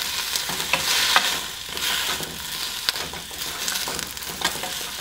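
Vegetables including drumstick sizzle and fry in a pan for Tirunelveli-style sambar with coconut, a steady close crackle with scraping stir strokes, no talking.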